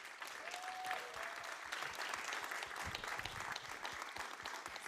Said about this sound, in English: Could we please give a round of applause to the writers?